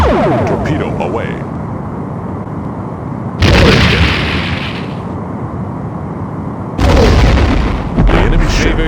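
Torpedoes strike an enemy ship in the Star Trek: A Final Unity game: loud booming blasts burst in twice over a continuous rumbling roar.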